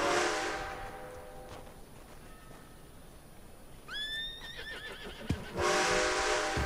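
A horse in the Red Dead Online video game gives a clear, rising-then-falling neigh of about a second, set between stretches of steady broadband hiss and ambient game noise.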